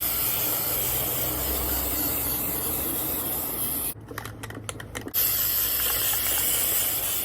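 A steady hiss of an aerosol can spraying red glitter paint, cut by a second of sharp rattling and short bursts, then the continuous spray resumes.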